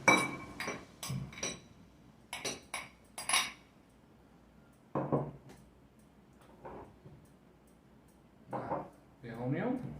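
Utensils clink and scrape against a bowl in short bursts while ingredients for a Peruvian fish dish are mixed, with a voice speaking between them.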